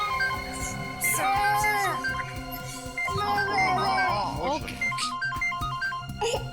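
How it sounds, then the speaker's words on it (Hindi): A phone ringtone chimes as a melodic electronic tune, close and clear over a busy background. "एसीपी साहब का फोन।"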